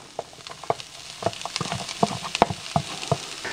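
Onions and mushrooms, including shiitake, sizzle and crackle in a hot pan by a wood-fired oven, with scattered sharp pops over a soft frying hiss, close and fairly loud.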